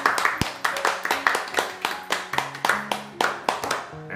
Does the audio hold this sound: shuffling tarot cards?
no